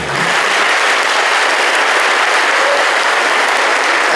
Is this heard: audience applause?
yes